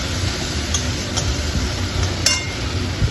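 Onion, garlic, tomato, cumin and coriander powder sautéing in oil in a pan, a steady low sizzle with occasional clinks and stirring taps of a spoon against the vessel, close and continuous.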